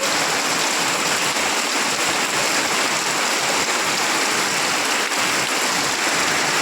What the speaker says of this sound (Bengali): দেখো বৃষ্টি বৃষ্টি বৃষ্টি কত সুন্দর বৃষ্টি তাই না